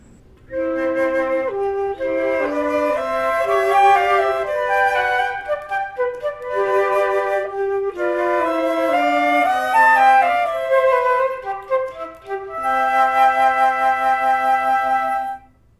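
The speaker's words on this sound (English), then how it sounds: "A group of C flutes sounds like this." Several C flutes play together in a flowing melody with harmonized lines, steady and fairly loud, with brief breaths and pauses between phrases.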